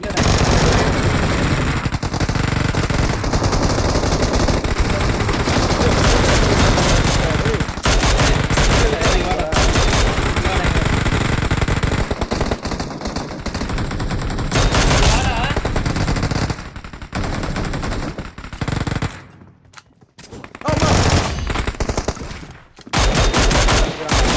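Gunfire in the mobile game BGMI, with dense, loud bursts of automatic fire that go on almost without a break, then a short drop-out and a few last bursts, with excited players shouting over it.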